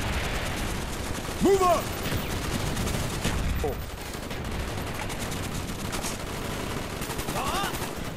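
Gunfire rattles through a Call of Duty Black Ops battle: bursts of automatic fire and shots crackle continuously under a soldier's shouted commands.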